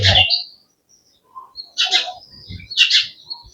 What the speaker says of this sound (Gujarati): ચકલું ઘરનું ચીચીએ ચડ્યું હે